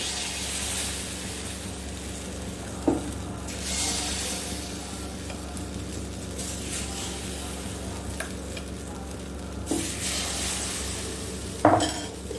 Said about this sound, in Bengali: এবার আমি এই ব্যাটার থেকে ছাঁচের এক একটা খোপে ব্যাটার দিয়ে দেব, আর গ্যাসের ফ্লেমটা হাইতে রাখতে হবে